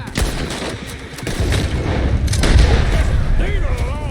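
Heavy gunfire rattles through a Red Dead Redemption 2 shootout as a coach approaches: loud, dense volleys and booming shots pile up continuously, with voices shouting over the din.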